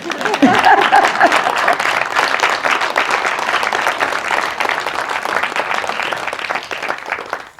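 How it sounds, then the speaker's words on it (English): An audience bursts into steady, enthusiastic applause, dense clapping that holds strong for several seconds before tapering slightly. "You can clap first, I don't care."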